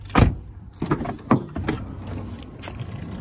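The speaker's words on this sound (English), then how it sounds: "One touch automatic opening the doors." Power sliding doors on a 2012 Chrysler Town and Country Touring minivan opening, a few short thumps and clicks followed by a soft motor whir and latch sounds, nearby and fairly quiet.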